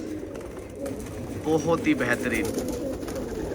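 Pigeons in a fancier's loft coo in low, rolling phrases, with someone speaking briefly over the steady birdsong and a hum of background noise.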